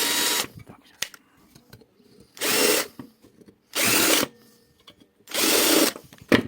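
A cordless drill fitted with a step bit bores into the metal casing of a VEGAS microwave oven in four short whirring bursts, loud and close, with quiet clicks and handling noise in the pauses.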